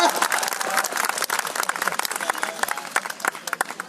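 Audience clapping at a poetry recital held at a Mahashivratri fair, a dense burst of hand claps from a crowd mixed with voices, fairly loud and continuous.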